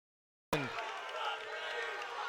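Crowd noise bursts in suddenly and holds steady at a fraternity league basketball championship game, a dense, fairly loud wash of reacting and chanting spectators filling the gym.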